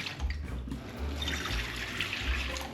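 Running sink water rinses sea urchins, a steady splashing stream with gurgling bursts as the shells shift under the tap, close and fairly loud, with no talking.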